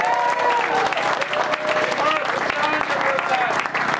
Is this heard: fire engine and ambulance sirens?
no